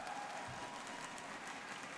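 A large arena crowd at the ESL One Bangkok Dota finals applauds and cheers, a dense, steady roar of clapping heard from a distance for the whole stretch.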